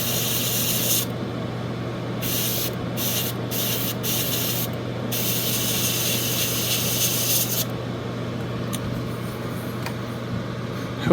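A spray can or airbrush hisses steadily while paint goes onto a Gundam model kit, with several short bursts near the start and a long continuous stream, close and loud.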